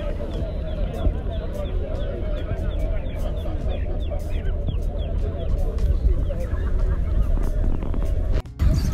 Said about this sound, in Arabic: هذا الدجاج الحساوي والديوك والديوج الحساوية